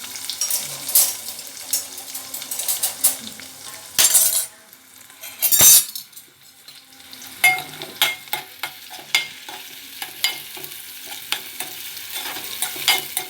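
A spatula clinks and scrapes in a pan of sizzling onions for a drumstick, tomato and brinjal curry, with irregular stirring knocks and bursts of frying.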